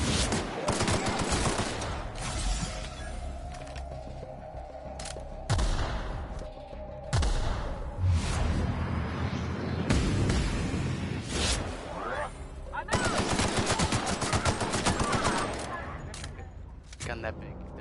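Heavy close-range gunfire from a big gun in a video game, repeated loud bursts and volleys spread across the stretch with short pauses between them.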